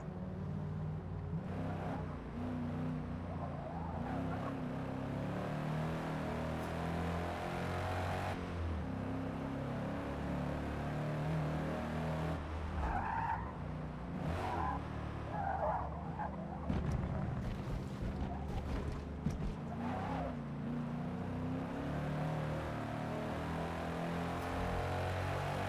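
Race car engine in Forza Motorsport on the Nürburgring, a steady low drone with repeated gear shifts and revs rising and falling through corners, heard alone at moderate level.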